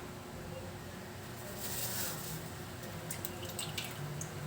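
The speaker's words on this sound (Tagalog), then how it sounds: "hugasan na natin ang ating mga pusit" Water runs from a tap while squid are washed in a sink, a soft steady splash with a few brighter drips and clinks near the end.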